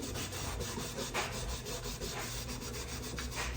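Abrasive scrubbing of the inside of a frying pan with Comet powdered cleanser, a steady close-up rasping rub that runs continuously with quick repeated strokes and no talking.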